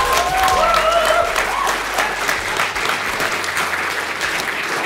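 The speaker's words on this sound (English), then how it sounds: "You could have applauded after my name," Audience applause at a comics panel talk for a new comic series, a steady, loud wash of many hands clapping that carries through the whole stretch, with faint voices mixed in beneath it.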